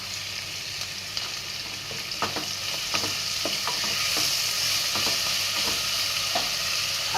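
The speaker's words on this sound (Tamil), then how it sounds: "எல்லாமே 2 நிமிஷம் வதக்கிக்கோங்க." Finely chopped mushrooms and cubed zucchini sauté in a hot pan, a continuous close sizzle broken by repeated scraping clicks of a spoon stirring the vegetables, with no talking.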